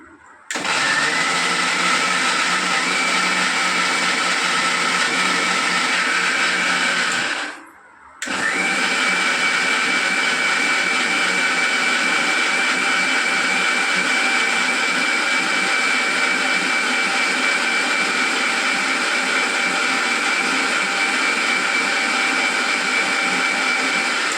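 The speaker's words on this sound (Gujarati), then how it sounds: "હવે મિક્સરમાં જે પહેલાં આપણે આ મસાલાનું પાણી પલાળ્યું હતું એ થોડુંક મસ્ત નાખશું." A mixer grinder blends pani puri masala paste with soaked spice water in a loud, steady motor whine. It runs for several seconds, cuts out briefly, then restarts and keeps going.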